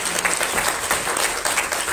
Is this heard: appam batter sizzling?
no